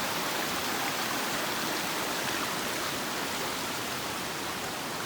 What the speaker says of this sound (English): this nice little creek we were at.